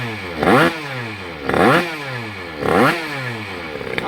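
An 80cc moped engine with a 26 mm carburettor runs rich, revving up three times in rising, buzzy sweeps that fall back to a rough idle, loud and close with no speech.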